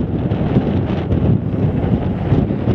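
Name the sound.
strong wind on Coniston Old Man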